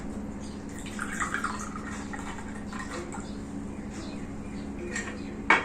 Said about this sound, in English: Now we will add water into it.